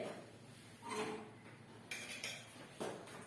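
Spicy Korean noodles are scraped and lifted out of a wok onto a plate, giving a few quiet metallic clinks and scrapes of utensil against pan with short pauses between.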